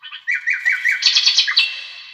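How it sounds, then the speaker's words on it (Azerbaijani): Small birds sing in a quick run of bright, repeated chirps and twittering phrases, close and clear with no other sounds around them. "eşidirim seslerin, nəğməsini kuşların"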